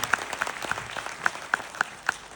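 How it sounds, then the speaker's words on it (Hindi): An audience claps, with sharp, separate hand claps spaced irregularly across a short burst and no steady roar. "एक बार जोरदार ताली अपने खुद के लिए करो यार"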